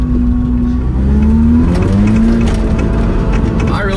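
A rallycross car on knobby tires heads out for a parade lap, its engine droning close and loud with a rising, shifting pitch as it pulls away.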